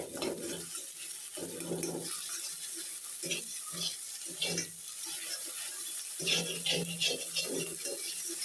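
Egg fries in a little oil in a pan, a close, steady sizzle and crackle with bursts of louder spitting, broken by the scrape and clatter of a utensil against the pan.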